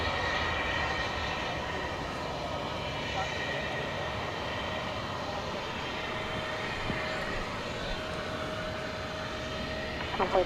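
Aircraft engines rumble steadily at DFW Airport at night, a continuous broadband roar with a faint steady tone over it, holding at an even level throughout with a few brief bumps near the end.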